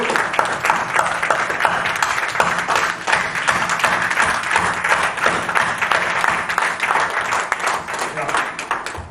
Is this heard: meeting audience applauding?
yes